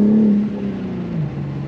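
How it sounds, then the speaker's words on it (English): Engine of a 2021 BMW G80 M3 while driving, a steady low droning hum with a tonal note that dips in pitch as the revs fall, heard from inside the car with no talking. "See, it's not all digital. Some of it's the car making noise."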